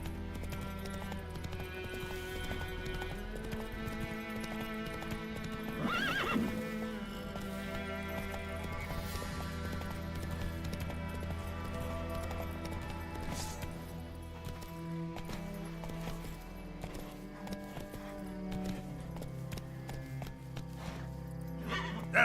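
Roach, a horse in a video game played on an Xbox Series S, gallops with steady clip-clop hoofbeats and gives a neigh about midway through, all over continuous game music.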